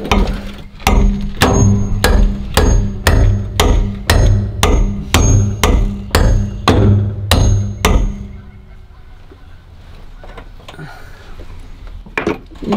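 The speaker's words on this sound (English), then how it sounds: "we're going to try to take a hammer to it" A hammer pounds a thick metal mount piece inside a van during a propane tank install, about a dozen loud, evenly spaced metallic blows in quick succession that then stop, leaving quiet shuffling.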